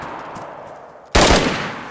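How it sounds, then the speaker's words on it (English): Gunfire in the video game DayZ during a 3v3 PVP match on PS5, a sudden loud burst of shots cutting in after a quieter stretch and continuing densely. "He's shooting at me."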